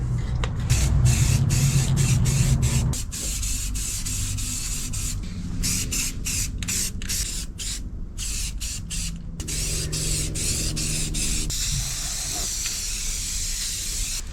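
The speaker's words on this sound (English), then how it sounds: "I'm just going to hit them with some Rust-Oleum Gloss Black." Rust-Oleum Gloss Black aerosol paint hisses onto truck bumpers in a series of short and longer spray bursts separated by brief pauses, close and fairly loud with no one talking.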